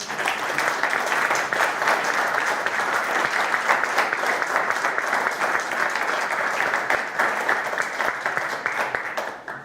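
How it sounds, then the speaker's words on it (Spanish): A seated audience at a geopolitics conference applauds the organisers in a long, dense, unbroken round of clapping, loud and steady for nearly ten seconds before tapering slightly. "Para ellos creo que se merecen un gran aplauso."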